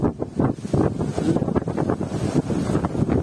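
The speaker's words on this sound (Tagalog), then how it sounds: "Lakas ng hangin talaga." Strong typhoon wind buffets the microphone in loud, gusty rumbles that roar continuously throughout, with no voices.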